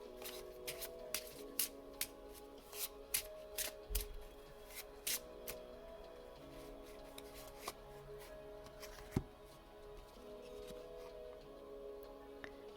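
Tarot cards being shuffled, a series of quiet crisp riffles and taps at irregular intervals over a faint background, with no voices.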